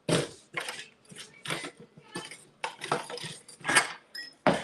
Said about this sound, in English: I'm gonna grab a whisk.